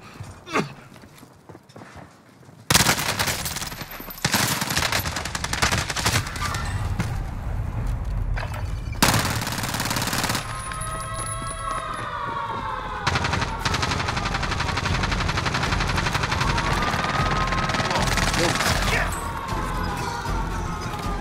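In the video game Rebirth Island, bursts of gunfire crack loudly and repeatedly over dense battle noise and clatter, with rapid automatic-sounding volleys through most of the stretch.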